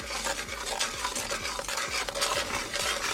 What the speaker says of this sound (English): Keep adding spices and keep mixing.